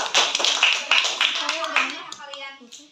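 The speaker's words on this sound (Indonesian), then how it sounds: "Tepuk tangan lagi." A group of children clapping hands in a classroom coding lesson, a burst of brisk claps that tapers off over a few seconds while voices speak over it.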